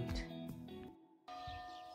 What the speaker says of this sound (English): Hear the church bells striking because it's midday